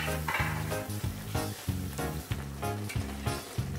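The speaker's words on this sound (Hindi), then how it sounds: "इसका उबाल अच्छे से आ रहा है।" A methi matar curry bubbles vigorously in a pan, with crackling sizzle and rhythmic bursts of bubbling. A steady patterned hum runs beneath it, and no one talks.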